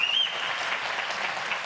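A snooker crowd gives steady, even applause that fills the hall, with a faint high whistle near the start.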